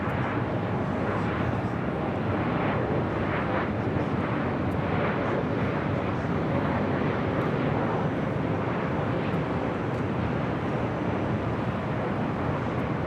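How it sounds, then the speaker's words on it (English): A Southwest Airlines Boeing 737 MAX 8 arriving at LAX from Nashville makes a continuous broadband jet rumble that stays even and fairly loud across the whole stretch, with faint voices mixed in. "This next arrival is Southwest Airlines 2409 coming in from Nashville,"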